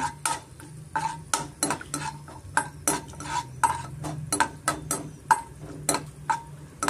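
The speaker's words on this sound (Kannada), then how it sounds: "ಸ್ವಲ್ಪ ಗೋಲ್ಡನ್ ಕಲರ್ ಬರೋವರೆಗೂ ಫ್ರೈ ಮಾಡ್ಕೊಳ್ಳೋಣ" Cashew nuts fry in a pan until golden while a utensil stirs them, giving a steady run of sharp clinks and scrapes against the metal at an even, close rhythm over a low background hum.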